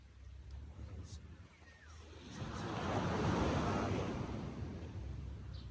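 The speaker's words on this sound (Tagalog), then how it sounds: "Yung waves na papakasaya natin" Ocean waves at high tide on a beach, a soft continuous wash of surf that swells to a fuller roll midway and eases back, with faint wind behind it.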